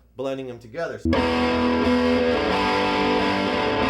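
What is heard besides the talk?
distorted electric guitar through Randall RG80 solid state amp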